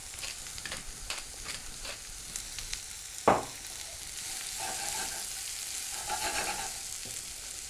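Peppers stewing in melted butter in a pan, a soft, low sizzle with faint crackles, broken by one sharp clatter midway before the gentle bubbling hiss resumes.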